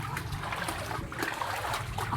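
Flood water runs through a narrow alley, a soft steady trickle and gurgle of flowing water at low volume with small splashes, no talk.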